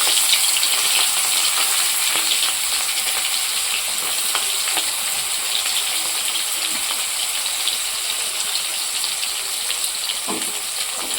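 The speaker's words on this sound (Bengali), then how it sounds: "পেঁয়াজটাকে আমি হালকা করে ভেজে নেব" Onions fry lightly in a pan of oil for a Bengali egg curry, with whole cumin and coarse garam masala already added. A steady, dense sizzle and crackle runs evenly throughout without any voices.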